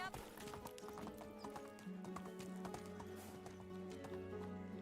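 Horse hooves gallop in a steady clip-clop rhythm in the medieval video game Medieval Dynasty, with a brief whinny, quiet and a little distant against game ambience.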